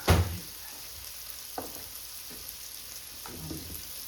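Beef frying in a pan at medium-high heat for crispy tacos, a soft steady sizzle, close and quiet, with a few stirring clacks.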